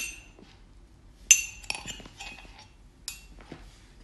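A spoon clinks sharply against a kadai while spices and onions are stirred, a few scattered metallic taps and scrapes over a quiet background.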